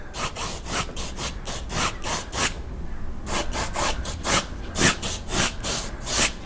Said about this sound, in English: if we go dry brush down and wet brush across